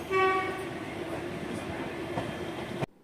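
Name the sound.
Coimbatore-Tiruchendur train entering Tirunelveli Junction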